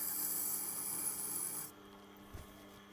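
A blade being sharpened to raise a burr: a steady, bright rasping scrape for about a second and a half, then it stops, leaving faint low hum and a soft knock.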